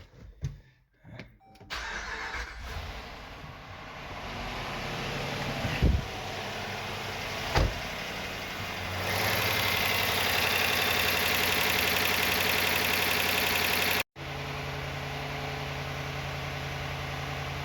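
A Hemi V8 car engine, just back together after a lifter replacement, cranks over, catches and settles into a steady, loud idle close by, with a few sharp knocks and a brief cut near the end before running on.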